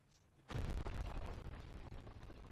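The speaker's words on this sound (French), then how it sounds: "What the? une explosion." Explosion at a castle in Ni No Kuni II, a sudden loud boom after a quiet start, followed by a sustained rumbling roar with crackling bursts that slowly fades.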